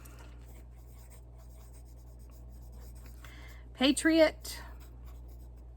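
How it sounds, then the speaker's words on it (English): A pen scratches softly on paper as words are written down by hand, faint and steady beneath a constant low hum, with one word spoken briefly partway through. "I gotta write them down."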